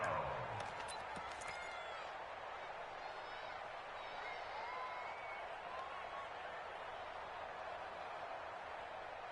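Crowd noise in an American football video game, a steady broad roar of cheering that holds evenly throughout ahead of a big third down, with a brief burst of higher clatter near the start.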